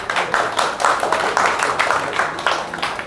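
Applause from a stand-up comedy audience, a dense, steady patter of many hands clapping with slight swells in level, loud and close throughout.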